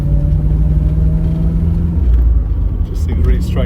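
A 1970 Triumph Stag with a manual gearbox drives along, its engine rumbling loudly and steadily with a pitch shift as gears change, while someone talks over the noise inside the car.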